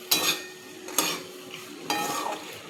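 Pasta in tomato sauce being stirred in a pan, three distinct scraping strokes about a second apart over a soft sizzle, close and clear with no talking.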